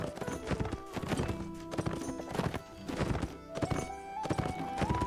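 Horse hooves clip-clop steadily in a medieval cavalry battle scene, a rider on horseback moving at a walking rhythm, with occasional whinnies and thuds amid a busy, layered backdrop.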